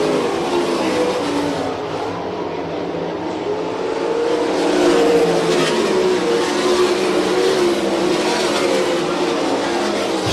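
Winged sprint cars race past on a dirt track, engines snarling in a continuous loud drone that swells as the pack goes by, heard at moderate distance.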